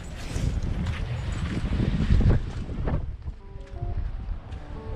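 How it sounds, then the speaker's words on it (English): Strong wind on a walk up Winter Hill in January, roaring and buffeting against the microphone in loud, rough gusts that ease off slightly toward the end. "It's a strong wind."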